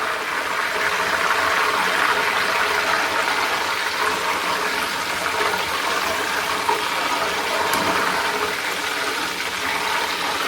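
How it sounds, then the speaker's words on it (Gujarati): Sweet potato wafers fry in hot oil, a loud, steady hissing and bubbling sizzle that continues evenly throughout without pause. "તેલમાં પાણી જાય એટલે થોડોક અવાજ તો આવે જ"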